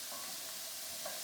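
Garlic sizzles in a pan already holding softened onions, a faint, steady hiss that lasts about a second.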